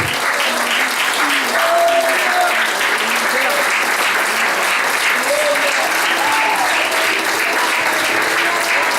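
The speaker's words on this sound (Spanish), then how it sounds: "Póngase de pie y dele fuerte el aplauso al Rey de Reyes" A congregation at a Spanish-language church service stands and applauds the King of Kings, steady loud clapping throughout with cheering voices mixed in.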